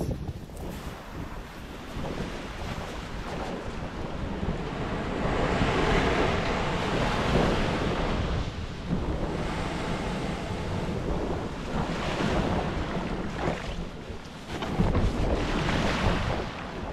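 Strong wind blows steadily at sea off Sado Island, roaring across the microphone with rolling gusts and the wash of waves, loud and continuous with no voices.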